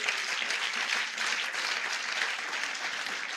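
A church congregation claps together in steady, dense applause, even and sustained from start to finish with no voices standing out.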